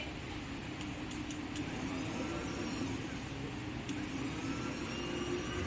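A bread dough mixing machine running at low speed gives a steady, even mechanical hum with a rough low rumble, unchanging and moderately loud.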